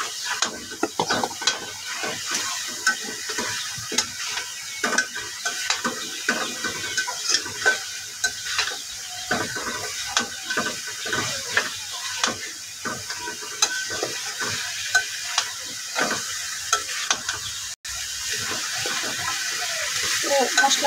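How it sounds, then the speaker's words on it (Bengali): Chicken meat sizzling and frying in a pan of spices while being stirred, with steady scraping and stirring strokes over a constant close-up hiss. "মশলাটা দিয়ে মাংসটা একটু নাড়াচাড়া করার পর"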